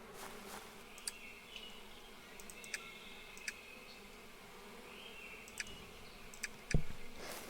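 Bees buzzing in the farming game Apico: a faint, steady drone hangs in the background, dotted with small sharp clicks and one louder knock near the end.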